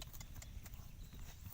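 Horse hooves clip-clopping along a slope, a steady close run of hoofbeats over low rumbling background noise for a brief moment.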